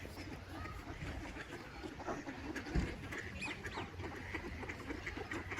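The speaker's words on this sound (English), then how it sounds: "You hear birds." Birds call and chirp faintly in the background of an outdoor scene, with a voice talking intermittently over the ambient noise.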